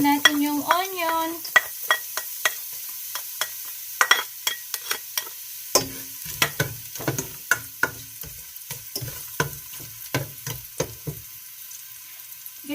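Onion frying in a pan for pancit lomi: a steady close sizzle with frequent sharp utensil clicks and taps against the pan, and a brief voice near the start.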